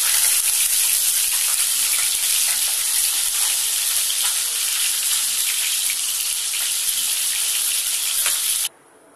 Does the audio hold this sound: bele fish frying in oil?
yes